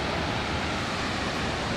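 A waterfall gives off a dense, steady roar of rushing water, loud and unbroken across the whole stretch.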